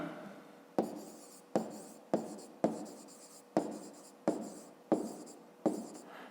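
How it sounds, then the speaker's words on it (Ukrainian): A pen writes out an answer on paper for a fifth-grade math exercise, a steady series of about eight regular scratching strokes, close and clear in a quiet room with no voices. "Ну добре, ну а тепер записуємо відповідь."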